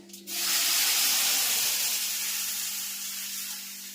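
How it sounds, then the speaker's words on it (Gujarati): Hot oil tempering for kadhi with mustard seeds, cumin and fenugreek powder bursts into a loud sizzling hiss that starts abruptly, then slowly fades over a few seconds, with a steady low hum behind it. "સરસ મજાનો કઢીનો વઘાર."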